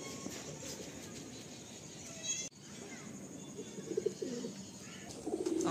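Kalanka pigeons coo in a loft, a soft, steady layer of cooing under a continuous rustling background with a few brighter calls near the end.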